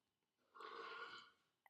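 A single loud, drawn-out burp lasting about half a second, close and isolated, followed by a brief click.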